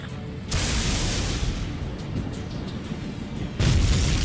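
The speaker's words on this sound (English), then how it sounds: "Did you see that explosion?" In the video game Ace Combat 7, a deep booming blast bursts in, a sustained rumbling roar follows, then a second loud burst hits near the end.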